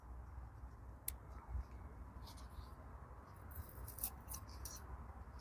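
Scissors snip a succulent plant with a few faint, crisp clicks over a low background murmur, the cuts sparse and quiet.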